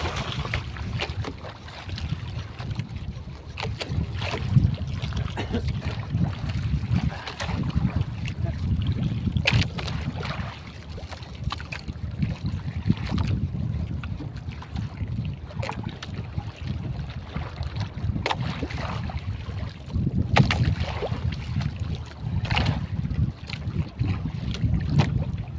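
Growing sea waves slosh and slap around a small fishing boat, heavy gusts of wind buffeting the microphone throughout with irregular thumps of water against the hull, no voices.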